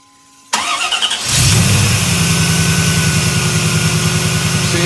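A 1992 Camaro fitted with new two-piece underdrive pulleys and a fresh belt cranks briefly, then catches and settles into a loud, steady idle close by, with no voices.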